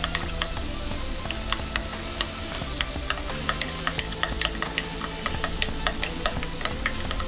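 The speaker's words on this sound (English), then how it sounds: "keep on mixing" Burger sauce seasoned with salt and cracked pepper being stirred in a bowl for a brunch burger: steady scraping and clinking of a utensil, close and continuous, with no talking.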